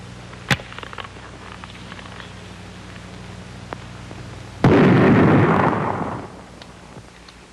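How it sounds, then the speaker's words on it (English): Rifle shots fired outdoors on a windy day: one sharp, loud crack early on, then a louder, longer blast that rumbles and fades over about a second and a half, with steady wind noise throughout. "Aiming each shot into the wind by guesswork."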